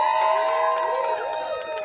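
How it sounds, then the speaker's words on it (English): At a public safety rally in Brooklyn, a crowd cheers and whoops for a marching band, a short burst of loud shouting voices with sustained high tones overlapping, close and dense throughout. "everybody give a big round of applause for the PU Marching Band"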